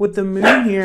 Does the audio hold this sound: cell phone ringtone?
no